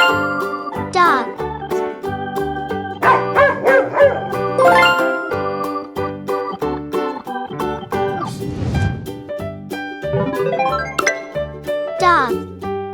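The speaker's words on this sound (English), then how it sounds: "Dog." Cartoon dog barks from a children's farm-animal lesson, a few short yaps set over bright jingly music with a voice naming the animal.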